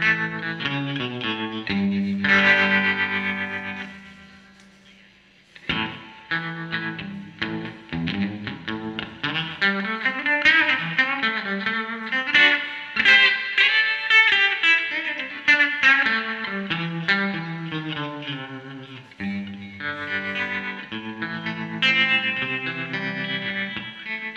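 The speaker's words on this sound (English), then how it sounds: "Reverb back in with the tremolo, sort of get a little bit of a feel for both of them" Electric guitar, an Epiphone Zephyr, playing chords and melody with a wavering tremolo pulse and spacious reverb tail, steady and fairly loud, briefly dropping out partway through.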